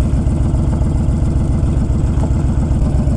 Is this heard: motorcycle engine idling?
yes